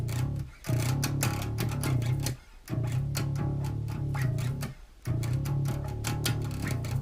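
Distorted bass guitar playing a fast metal riff, loud and dense with rapid picked notes, broken by two short pauses near the start and end, with no voices.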